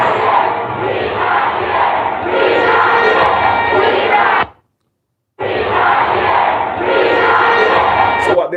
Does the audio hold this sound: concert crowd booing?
yes